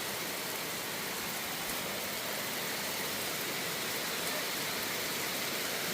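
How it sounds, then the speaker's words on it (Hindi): Heavy rain pours steadily at a jungle resort at night, a dense, even hiss that stays loud and unbroken throughout, with no voices. "जबरदस्त बारिश शुरू हो गई है"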